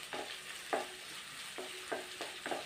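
Onions and spices for chicken biryani being stirred in a pan: a soft continuous sizzle with five or six distinct scraping strokes at irregular intervals, close but fairly quiet, no voices.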